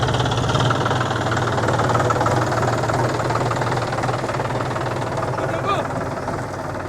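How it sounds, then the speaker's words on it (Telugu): A tractor engine runs steadily in a paddy field while bundles of straw are loaded onto it, its loud, continuous mid-pitched chug rumbling throughout with people talking over it. "ఇక గడ్డి గడ్డల వెంట ట్రాక్టర్ అయితే దింపడమే"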